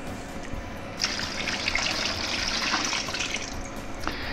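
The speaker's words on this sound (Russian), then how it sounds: "я добавлю 6 литров воды" Water pours steadily into a batch of crushed black grapes for homemade wine, starting abruptly as a bright splashing gush that runs continuously for several seconds, close and fairly loud.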